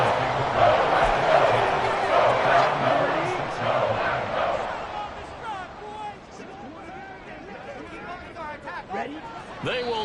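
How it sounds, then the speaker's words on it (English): A stadium crowd cheers as the Packers clinch a Super Bowl berth, a loud, roaring wall of voices that gradually settles while a commentator talks over it. "And the crowd on its feet, and understandably so."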